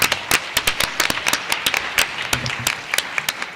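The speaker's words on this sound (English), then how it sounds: "Can we give them another round of applause?" A board of education meeting audience breaks into brisk, steady applause, with many sharp claps packed close together throughout and no speech over it.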